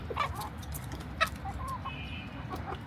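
Several chickens clucking nearby in short, irregular bursts over a low background rumble, no talking.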